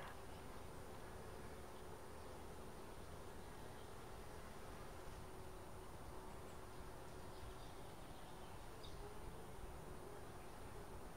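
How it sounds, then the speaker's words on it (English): Honeybees buzzing during a hive inspection, a faint, continuous hum of many insects that holds steady throughout with no talking. "So there are bees all over here,"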